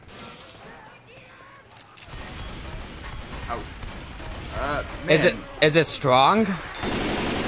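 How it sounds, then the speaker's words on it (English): Machine gun fire rattles in Left 4 Dead 2 during the Dead Center campaign, coming in a few loud bursts near the end, with players chatting throughout. "I'm getting it with the machine gun"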